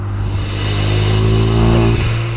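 A modified car on BC coilovers with over 300 horsepower accelerating hard, its engine note holding a strong, steady drone that climbs slightly in pitch before easing near the end, loud and close, with no talking.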